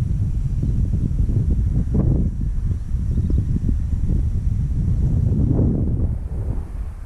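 Strong gusty wind buffets the microphone at a model aircraft flying field, a continuous low roar that swells and eases in waves.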